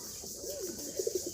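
Pigeons coo softly during a bath on a hot day, a faint low warbling coo followed by a few short soft notes, distant and quiet over a steady hiss.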